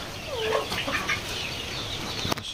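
Several chickens clucking close by in a farmyard, a steady murmur of calls with a sharper squawk near the end.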